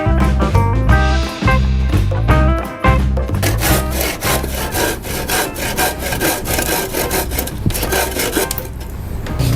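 Pallet wood being hand-sawn for a square frame, with steady back-and-forth rasping saw strokes, close and loud, running continuously.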